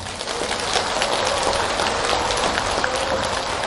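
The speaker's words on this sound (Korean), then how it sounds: "그럼 박수도 한번 쳐봐요." Worshippers at a Buddhist temple's Buddha's Birthday ceremony clap together in a dense, continuous patter that sounds almost like rain, steady and moderately loud for several seconds with no talking.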